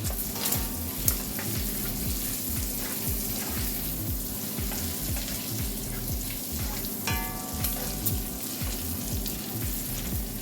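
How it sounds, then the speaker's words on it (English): Chopped bacon fries in a pan, rendering its fat for smoky bacon mac and cheese, a steady close sizzle and crackle with a low rhythmic rumble under it and an occasional clink. "I want to draw the fat from the bacon."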